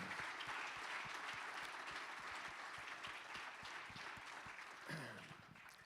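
Sustained applause from the audience at a Paralympic sports gala in Veneto, honouring the athletes; dense, steady clapping fills the room throughout before tapering slightly near the end.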